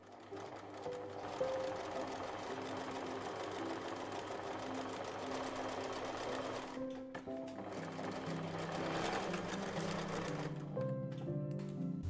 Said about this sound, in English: my first step was to sew together 2 squares to make 2 at a time half square